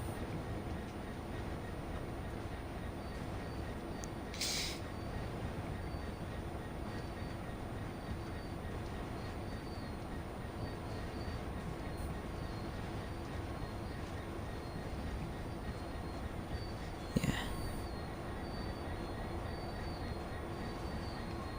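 A steady low rumble of an aggregates freight train in a train simulator game running along the track, fairly quiet and continuous, with a couple of brief high squeals.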